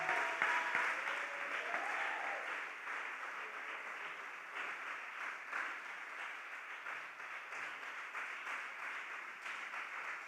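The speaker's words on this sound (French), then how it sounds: "Et on acclame le Seigneur" A church congregation claps in sustained applause to acclaim the Lord, a dense, even wash of hands that starts strong and slowly eases, heard alone without speech.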